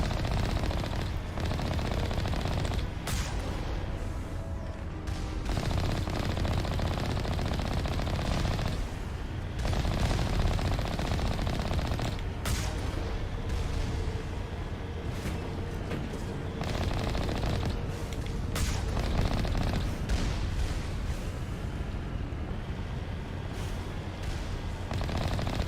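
Rocket turrets firing in the video game Mass Effect, a loud, dense barrage of repeated blasts and rattling gunfire that keeps going with brief gaps, all fairly close.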